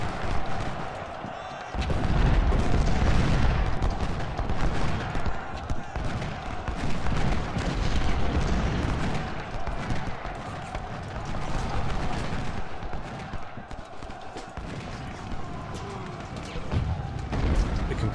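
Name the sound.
gunfire and artillery in video game Ultimate General: Civil War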